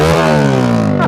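Top fuel dragster engine at a championship drag racing event, a single loud, very close, harsh rev with a steady thundering roar throughout the short burst.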